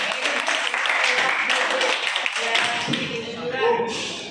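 Schoolchildren clap together in a classroom, a brisk round of close, rattling handclaps with voices mixed in, easing off near the end.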